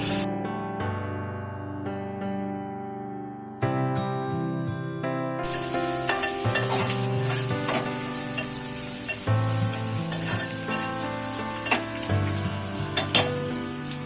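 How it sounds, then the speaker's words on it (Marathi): Garlic dropped into hot oil in a pan: after a quiet start with a few taps, a loud sizzle bursts in and keeps crackling with stirring and spatter until the end. "तेल चांगलं तापलेलं आहे त्यामध्ये आपण घालणार आहोत लसूण"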